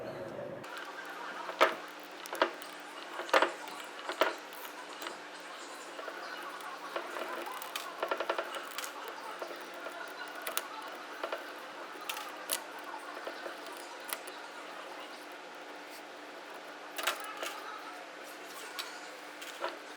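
Parts of a Kawasaki KRX 1000 differential gear case being pulled apart by hand, giving scattered faint clicks, taps and scrapes of metal over twenty seconds with brief sharper knocks, no talking.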